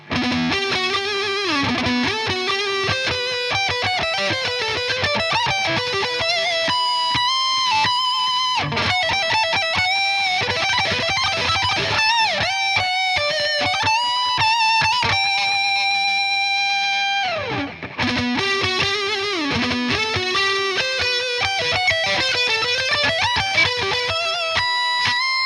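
Lead lines ring out from a Telecaster-style electric guitar on the neck pickup through distortion, with bends, sustained singing notes and fast runs, loud and up close, including a brief pause before the playing resumes; no talking.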